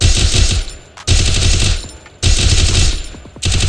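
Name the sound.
SMG gunfire in the video game Free Fire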